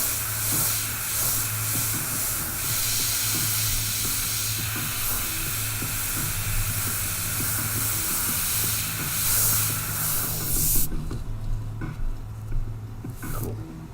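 An airbrush sprays paint onto a metal tumbler while a skull design is painted, giving a steady, close hiss that runs nearly unbroken, with a low motor hum beneath it and a brief drop near the end.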